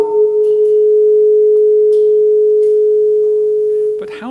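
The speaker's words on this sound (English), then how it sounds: "Mr. Santa needs his tuning fork." A tuning fork rings with a single pure, steady tone, loud and close, holding unwavering for about four seconds before a brief clatter at the end.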